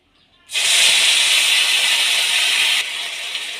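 A spice paste of ground ginger, cumin and dry chilli hits a hot pan while cooking pui dal, bursting into a loud, steady hiss that holds for about two seconds, then settles into a slightly softer sizzle.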